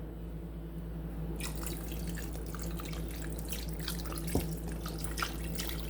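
Tap water runs into a bottle with a steady, close splashing hiss that starts abruptly after a brief quiet moment and continues evenly, with a faint low hum underneath.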